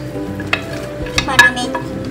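Vegetables such as bell pepper and carrot are stirred into boiling papaya atchara pickle in a pot, a few scraping clinks standing out over a steady bubbling simmer.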